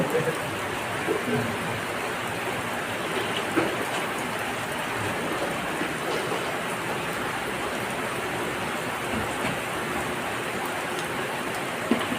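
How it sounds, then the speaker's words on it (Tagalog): Steady rain falls throughout, a dense hiss of drops pattering on surfaces with occasional louder splashes, continuous and fairly close. "Tuloy ang laban. Kahit umuulan."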